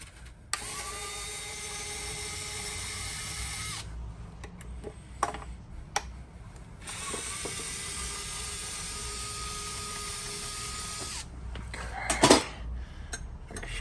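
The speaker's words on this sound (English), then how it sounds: "Take screws out." Mechanical whirring from a powered screwdriver driving screws out of a Schlage BE365 keypad deadbolt comes in two long sustained runs, close and fairly quiet, with small clicks and a brief clatter near the end.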